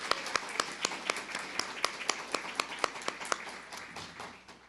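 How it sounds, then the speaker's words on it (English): Sparse hand claps from a small audience after a brass quintet's performance at a literacy graduation ceremony, sharp individual claps in a steady loose rhythm that thin out toward the end. "Please give them a round of applause."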